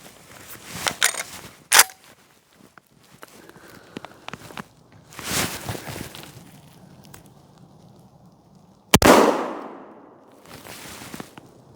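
A Beretta 1301 Tactical shotgun fires Federal 8-pellet 00 buckshot at 15 yards, a single loud sharp blast with a decaying echo amid scattered shuffling and handling noises outdoors.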